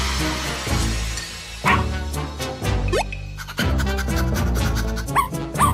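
A cartoon dog barks several times in short bursts over a bright children's music bed, the barks loud and close among playful sound effects.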